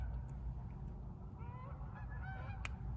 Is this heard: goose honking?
yes